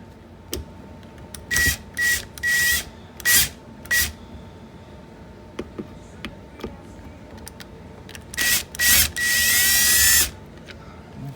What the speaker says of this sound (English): go ahead and remove these 2 Phillips head screws, because they're part of this plastic housing